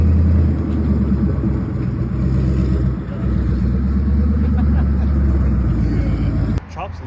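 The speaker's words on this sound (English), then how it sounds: "It's the LPF Mustang." A Mustang with LPF equipment rumbles past loudly on a backroad cruise, its engine note steady and heavy for most of the pass before cutting off abruptly near the end.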